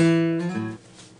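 A guitar plays a phrase from a song, sustained notes ringing then a late slide into the next note before fading quickly, heard alone and close.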